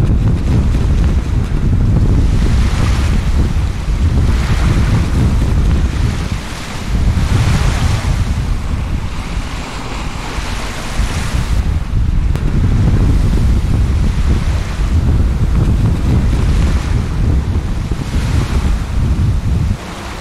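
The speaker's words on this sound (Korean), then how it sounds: "바람은 태풍에 근접하는 시속 50km를 넘나들었다." Near-typhoon gale blows over a rough sea off Jeju with waves about three meters high, the wind roaring continuously against the microphone while heavy surf surges and crashes around a boat.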